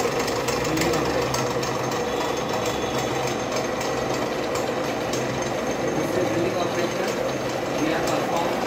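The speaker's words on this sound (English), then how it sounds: "Now we do the drilling operation." A drilling machine drills a workpiece, running steadily with a continuous mechanical rattle and hum, a dense buzzing drone that stays loud and even throughout.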